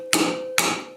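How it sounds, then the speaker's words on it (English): Two sharp metallic strikes of a 2-pound hammer bouncing on valve spring keepers of a John Deere 755 engine head, each ringing briefly and decaying, spaced about half a second apart, close and loud with no talk. "take our favorite 2-pound hammer and just bounce it a little bit to make sure that the keepers are in place"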